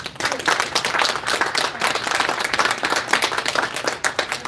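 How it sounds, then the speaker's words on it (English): An audience at an onsite mentorship event applauds the mentors, with dense, steady clapping from many hands sustained close by throughout, with no voices over it. "Give them a round of applause"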